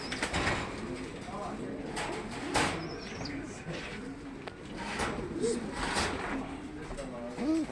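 Pigeons coo softly in a loft, several low warbling calls scattered among clicks and rattles of cage mechanisms, with a voice talking over them throughout.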